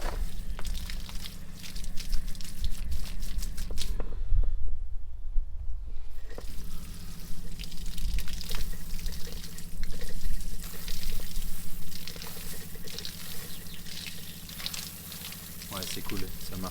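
Water runs steadily from an outdoor shower fitted to a camper van, a continuous hiss broken by a brief cutoff of the flow, with people talking over it.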